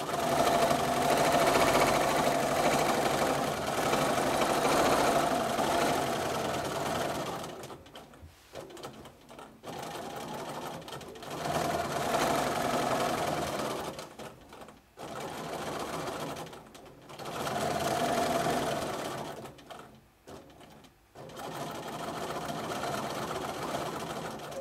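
A domestic sewing machine stitches free-motion quilting spirals in a rapid whirring chatter, running in long bursts broken by short pauses as the quilter stops and restarts.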